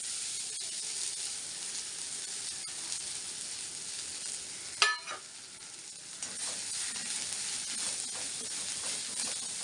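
Methi leaves sizzling in hot oil in a kadai, a dense continuous hiss close by with a sharp burst of crackle midway as more goes in, then settling back to an even sizzle.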